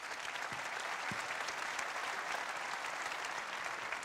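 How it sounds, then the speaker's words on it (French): A live audience applauds at a company awards ceremony, with steady, dense clapping from many hands filling the whole stretch at a moderate distance. "sous les applaudissements du public."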